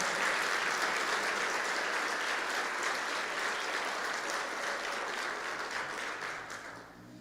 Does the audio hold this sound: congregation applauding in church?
yes